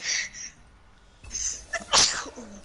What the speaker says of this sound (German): Gesundheit.